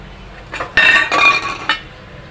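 Sabudana khichdi being mixed in a metal pan, with a few loud, close clanks and scrapes of a spoon against the pan in short bursts, then quiet.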